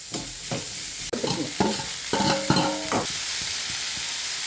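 Onions, green chili, ginger-garlic paste and curry leaves sauté in a pan for Madurai mutton dosa, with a steady close sizzle broken by repeated loud scraping stirs of a spoon against the pan.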